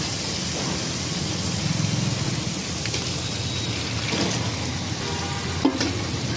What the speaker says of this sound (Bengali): এবার আমি এর মধ্যে আলু পটলটা দিয়ে দেবো।